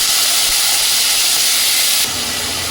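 Loud, steady hiss of cabbage sizzling in hot ghee, continuous throughout, with a slight shift in tone near the end.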